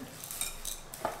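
Chocolate chips being stirred into keto cookie dough with a utensil, giving a few quick close scraping and clinking strokes against the bowl over about a second, with no talking.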